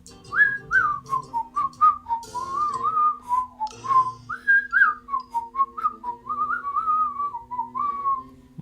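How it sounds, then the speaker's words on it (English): Someone whistles a wavering melody close up, a steady run of short tuneful notes rising and falling with no talking. "There's my whistling. Yes, we are a whistling man."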